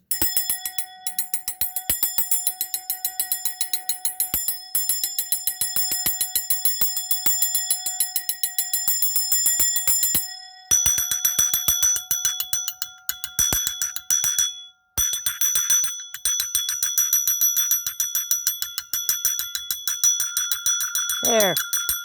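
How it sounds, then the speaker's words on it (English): Vintage brass mechanical trip gongs ring out in a long run of rapid, bright metallic strikes with sustained ringing overtones, loud and close, the pattern shifting as a different gong sounds partway through, ending in a falling, warbling tone. "you can hear this one without me loosening the gong"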